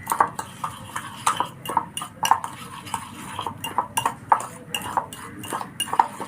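A spoon stirs snack batter with ginger and coriander in a metal bowl, giving repeated clinking scrapes in an uneven rhythm, close by.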